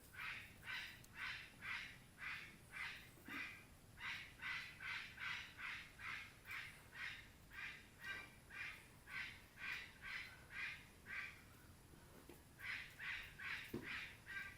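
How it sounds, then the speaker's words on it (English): A parrot in a large rainy yard squawks again and again in a steady, loud rhythm of harsh calls, with a couple of brief pauses, against a wet background hiss. "But that parrot sure talking a lot."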